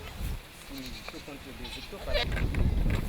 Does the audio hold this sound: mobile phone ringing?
no